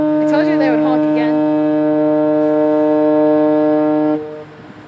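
A boat horn blasts a long, loud, steady tone that cuts off abruptly after about four seconds, with excited voices briefly heard over it at the start.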